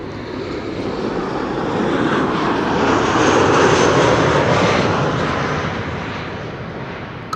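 A Condor jet airliner roars overhead at Amsterdam Schiphol Airport, its broad engine noise swelling to a peak and slowly fading as it passes.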